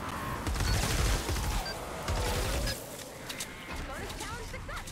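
Firecracker weapon blasts in Fortnite Save the World crackle in rapid, dense bursts, loud and continuous for several seconds, then a calmer stretch with scattered pops and game effects.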